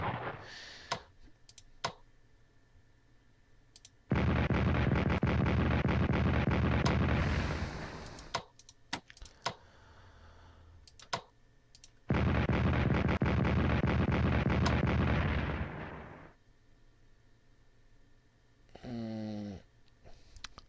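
Artillery fire sounds in Strategic Command World War I, a strategy game set during the fall of France. There are two long, loud rumbling barrages, with sparse mouse clicks in the quiet gaps and a short whooshing effect near the end.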